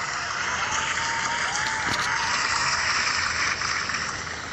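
Sustained audience applause, a dense steady wash of clapping that holds at an even level for several seconds with no voices over it.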